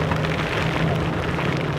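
Steady, dense hiss of heavy rain from a typhoon pouring down, constant and loud throughout with no voices.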